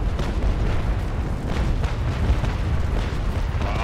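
Cannon fire in a naval battle video game, a steady rumbling barrage of deep booms and bursts rolling on without pause, loud and dense throughout with no voices.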